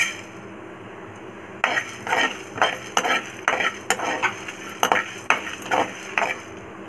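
A spoon scrapes and clinks against a pan as prawns with pepper are stirred in a dry roast, giving a rhythmic series of close metallic strokes over a faint sizzle.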